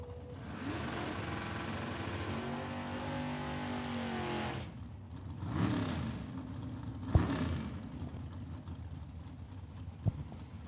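A dragster thunders down a drag strip on an eighth-mile pass at Tucson Dragway, a loud sustained engine roar that fades as it pulls away, followed by a quieter passing car and a couple of sharp clicks.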